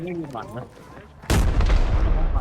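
Quiet voices and rustling give way to a sudden loud burst of gunfire and blasts in the video game Arena Breakout that keeps booming and crackling through the rest.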